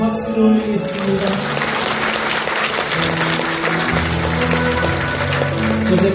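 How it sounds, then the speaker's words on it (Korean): A church congregation applauding during a worship service, steady sustained clapping over soft background music, continuous and fairly loud throughout. "우리를 부르신 하나님께 박수를 올리겠습니다"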